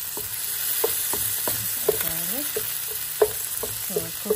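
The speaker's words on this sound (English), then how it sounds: "So we're cooking the garlic." Garlic fries in a pan on lowered heat for the Filipino dish pinakbet, with meat pushed to one side. A steady close sizzle runs throughout, broken by scattered scrapes and taps of a spatula stirring.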